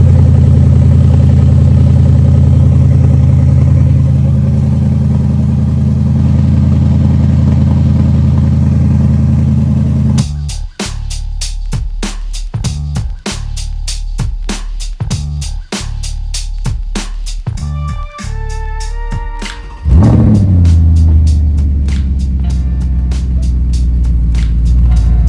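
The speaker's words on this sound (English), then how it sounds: "This here is cold start with valves open" A stock-exhaust Audi RS4 B7 on a cold start with its exhaust valves open: a loud, deep steady rumble, then a run of sharp rhythmic pops and blips, and finally a heavy rev that settles back into a low idle.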